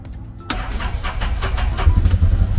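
A 2019 Can-Am engine starts on a brand new battery, with a sharp catch at half a second followed by a low, rumbling idle that grows slightly louder, close by and without talk.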